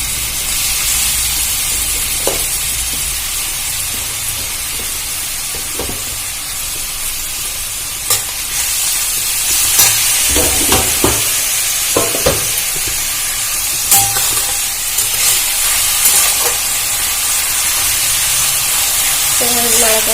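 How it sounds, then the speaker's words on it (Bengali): Soaked, drained sattu (chhatu) frying in hot oil in a pan, a continuous loud sizzle and hiss broken by repeated scraping and stirring clatters from a spatula, no speech. "এবার আমি ছাতুগুলো ভেজে নেব।"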